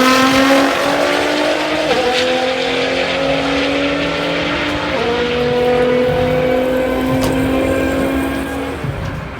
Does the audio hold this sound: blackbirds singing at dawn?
no